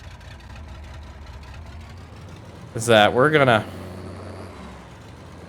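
A truck engine idles low and steady in Farming Simulator 22 on the No Man's Land map, a constant rumble that continues while someone speaks briefly over it.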